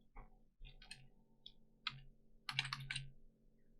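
Close, quiet typing on a computer keyboard during coding. The keystrokes come in irregular, crisp clusters separated by short pauses, ending in a quick run of taps, with no talking.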